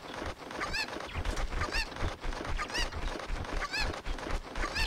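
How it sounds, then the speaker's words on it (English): Game chicken (a cucco) in Zelda: Ocarina of Time 3D gives repeated honking, squawking bird cries, about one each second, over a busy, steady game soundscape. "I hear him clucking."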